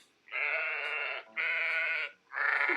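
Cartoon sheep bleating in an animated history video, three long, loud, nasal bleats in a row with brief gaps between them, clear and close with no talk.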